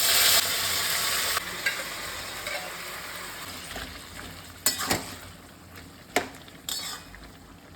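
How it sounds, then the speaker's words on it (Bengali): Malabar spinach and fried lentil dumplings cook in a pan, a soft sizzle under occasional sharp scrapes and metallic clinks of a utensil against the pan. "পুঁইশাকটা আস্তে আস্তে এর মধ্যে দিয়ে দেবো"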